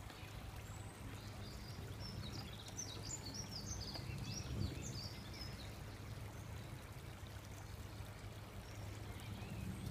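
Water flows steadily over stepping stones in a constant, low babbling rush, with faint bird chirps above it and no talking.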